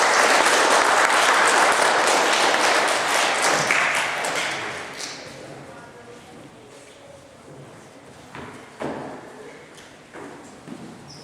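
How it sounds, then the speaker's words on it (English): Students and staff at a whole school assembly during Education Week clap in a round of applause for pupils. The clapping is loud at first, thins out gradually, and ends in a few scattered claps. "Could we give these wonderful students a round of applause"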